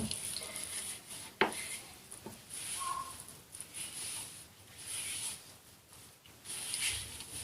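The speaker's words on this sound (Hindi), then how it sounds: "इसको अच्छी तरह से आपने इस तरह से गूंद लेना है" Hands knead dough for vegetable rolling bites in a bowl, giving soft, close, irregular squishing and pressing sounds with occasional light knocks against the bowl.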